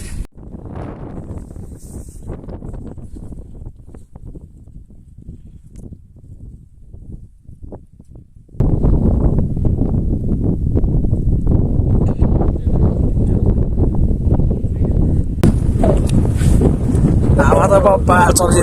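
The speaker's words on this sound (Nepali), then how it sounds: "हावा त बप्पा चलिरहेछ।" Strong wind on an uphill mountain trek buffets the microphone in a continuous heavy roar, which turns louder and harsher midway and stays close and steady to the end.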